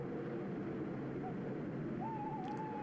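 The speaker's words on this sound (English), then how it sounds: "Owl, you're not helping." Owl hoots from the Boogeyman horror game sound over a steady ambient drone, with a faint wavering call rising near the end.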